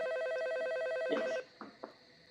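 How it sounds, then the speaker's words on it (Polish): Electronic phone ringing in a Roblox police-job game, a steady repeating ring tone at moderate level that stops partway, followed by a couple of brief soft clicks. "Telefon dzwoni, weź odbierz."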